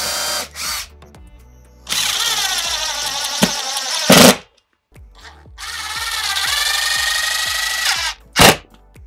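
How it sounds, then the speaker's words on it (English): Power drill boring holes in acrylic sheet, two long loud bursts of whirring with a few short trigger blips and sharp clacks between them, close and with no talking. "drill those out"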